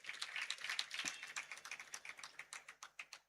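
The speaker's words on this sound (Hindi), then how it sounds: "इतनी हल्की सी तालियां।" A small audience at a Jain Shrut Panchami discourse gives light, scattered applause: quiet, uneven claps that thin out into a few separate, distinct claps near the end.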